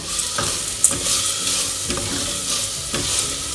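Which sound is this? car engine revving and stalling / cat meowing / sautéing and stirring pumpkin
sautéing and stirring pumpkin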